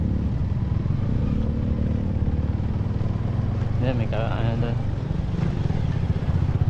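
A motorcycle engine runs steadily and loudly close by, a constant rumbling drone throughout, while people talk over it.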